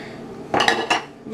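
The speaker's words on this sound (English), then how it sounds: "But we're knocking out dishes" Dishes and cutlery being washed in a kitchen sink, with a few quick clinks and rattles of metal against crockery over a low background hiss.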